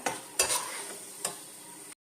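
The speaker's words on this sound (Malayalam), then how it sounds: "കണ്ടോ, നല്ല മുരിഞ്ഞ് നല്ല സൗണ്ട് കേൾക്കുന്നുണ്ട്." Peanuts crackle and sizzle steadily in hot oil, with a few scraping stirs of a utensil breaking through the bubbling before it stops.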